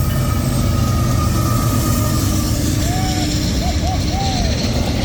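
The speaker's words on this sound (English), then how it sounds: "All right, this train, oh yeah, he is booking it." A fast BNSF freight train rushes past in winter with a loud, steady roar and rail rumble, and a few brief squeals rise over the noise near the end.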